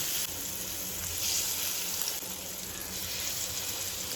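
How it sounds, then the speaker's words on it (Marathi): Spice-coated Rawas fish pieces fry in hot oil in a pan, giving a steady, close, even sizzle with a soft crackle that never breaks off. "तेल गरम झाल्यानंतर मसाले लावलेले प्रावस मच्छीचे पिसेस आहेत ते या तेलामध्ये सोडून देऊया"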